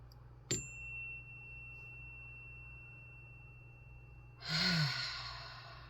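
A soft bell-like ding rings out early over a low steady hum, then a slow, audible deep breath swells and fades toward the end, close and gentle, with no speech.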